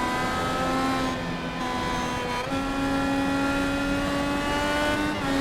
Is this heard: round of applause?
no